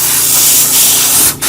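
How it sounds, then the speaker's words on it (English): A spray gun atomising thinned acrylic paint onto a 3D-printed alligator snapping turtle model, a loud continuous hiss lasting nearly the whole moment before a brief cut-off. "When it starts to really come out and spray really well, that means it's in the gun and it's thinning out."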